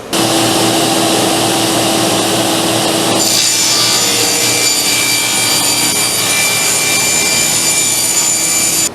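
Sheet of cork being cut while dry fitting a cork board, a continuous loud scratchy rasping and scraping close up, steady throughout with a slight change in tone partway, alongside running fans and air conditioners.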